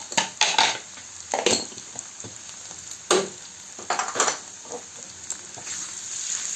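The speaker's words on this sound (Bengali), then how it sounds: "আলুটাকে আমাদেরকে খুব ভালো করে মশলার সাথে মিশিয়ে ভেজে নিতে হবে" Potatoes frying with spices in a pan for mini samosa filling, a soft sizzle under repeated clattering spatula scrapes and knocks against the pan, irregular and close, without speech.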